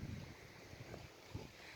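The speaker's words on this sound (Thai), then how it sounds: "เสียงน้ำซัดกับสายลมค่ะ" Water laps gently against the shore of Lago Santa Maria, a mountain reservoir at Passo Lucomagno, with faint soft splashes under a steady low rush of wind, quiet and close.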